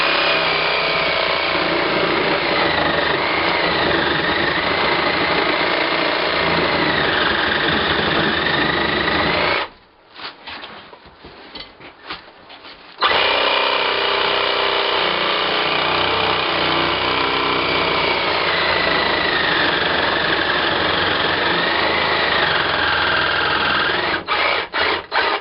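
A Sawzall reciprocating saw runs almost continuously as it cuts through hog fat, its fast buzzing motor close and loud. Partway through it stops for a few seconds with scattered handling noises, then the steady whine starts again.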